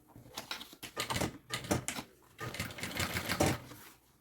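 A sewing machine topstitches a seam on a pink wheeled travel bag in short, close bursts of rapid needle chatter separated by brief pauses.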